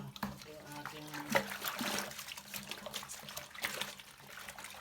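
Tap water runs into a bucket with a steady splashing trickle, dirty smelly water from the Prime Water supply, while a person talks over it.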